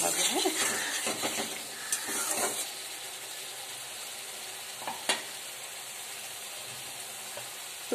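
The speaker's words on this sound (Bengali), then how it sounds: "মশলাটা খুব ভালো করে কিন্তু কষতে হবে" Spice paste being sautéed and stirred in a pan for a home-style Bengali potol dish, with a steady close sizzle and scraping stir strokes, louder in the first few seconds and then settling into a quieter frying hiss.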